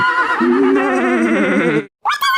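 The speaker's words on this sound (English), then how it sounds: "What does a horse say? Yeah! Neigh!" A horse gives a loud, drawn-out whinny with a wavering pitch, then a brief silence and a second short, rising neigh, heard alone and close.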